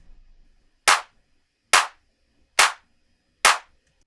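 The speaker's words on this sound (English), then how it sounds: "And here are both clap sounds together." Two clap samples layered together in a Logic Pro X progressive house session strike four times at a steady pace, each hit bright and wide with a quick tail and nothing else between.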